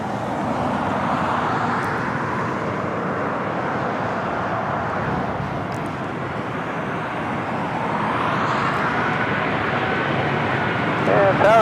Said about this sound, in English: up next, the Emirates A380 Super.